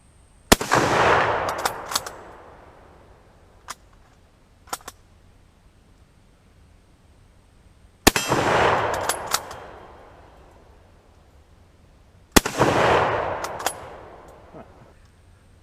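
Three loud, sharp Kar98k bolt-action rifle shots fired outdoors at night, spaced several seconds apart, each with a long rolling echo and faint metallic bolt clicks between them.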